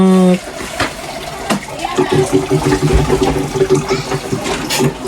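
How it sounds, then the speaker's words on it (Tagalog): Water pours steadily from a tap into a container while preparing mussels for a seafood meal, a continuous splashing gush that starts after a brief tone and runs loud and close, with voices talking over it. "lagyan mo rin ng tubig yun, Kabilas"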